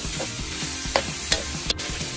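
Broccoli being stir-fried for chopsuey in a pan: a steady, close sizzle of frying with rhythmic scraping stirs and a few sharp clinks of the utensil against the pan.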